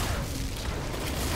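A grenade detonates in the Outriders video game, giving a short, muffled boom with a noisy rumbling tail, fairly faint overall.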